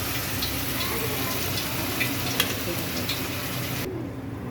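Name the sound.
soaked moong dal and dill leaves stirred into frying pan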